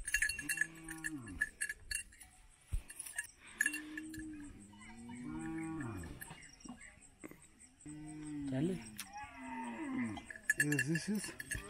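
Cattle kept in small separate pens at a Mursi tribe settlement in Ethiopia low repeatedly, with cowbells clanking steadily throughout; several long moos rise and fall close by.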